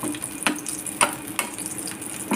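Wheat-flour dough for veg donuts fries in hot oil with a steady bubbling sizzle, broken by a few soft stirring clinks at regular intervals.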